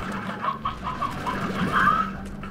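Chickens clucking in the ranching game Slime Rancher, a steady run of soft, overlapping clucks and chatter from a nearby coop with no speech over it.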